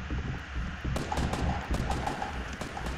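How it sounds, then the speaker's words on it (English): Several sharp gunshot cracks ring out at irregular intervals over a noisy Fortnite game background, fairly close and punchy. "I hear a gunshot."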